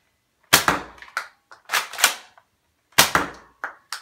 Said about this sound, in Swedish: Och vi ska visa hur hårt den skjuter.